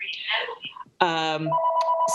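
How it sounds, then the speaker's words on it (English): An office telephone rings during a town select board meeting in Concord, Massachusetts, with a clear electronic ring tone right after a voice cuts off. "it's going to stop in a minute, that phone ringing."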